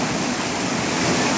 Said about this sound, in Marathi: नेकलेस धबधबा